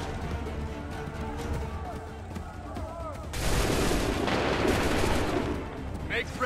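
Musket-armed soldiers in Assassin's Creed III fire a massed volley: shouted voices first, then a loud, dense crackling discharge that rolls for a couple of seconds before a final sharp report.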